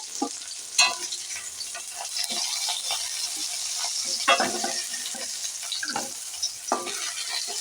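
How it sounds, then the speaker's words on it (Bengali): Okra being stirred and fried in a wok, a steady sizzle broken by repeated scraping and clinking stir strokes, close and fairly loud. "কড়ার মধ্যে এখন ঢ্যাঁড়সটা হচ্ছে ঢ্যাঁড়সটা খানিকটা বেশ নাড়াচাড়া করে নেবো"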